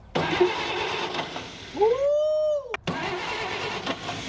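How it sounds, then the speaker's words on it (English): A Chevy Apache starter spins without engaging the flywheel, giving a rising whir that holds a steady high whine for under a second before cutting off abruptly, with quiet shop background around it. "now that's just starter with no engagement on the flywheel"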